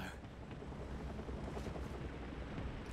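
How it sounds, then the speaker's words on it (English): A helicopter in the video game Still Wakes the Deep gives a steady, heavy rotor rumble that holds at an even loudness throughout, with no talk over it. "Well, I can hear the chopper."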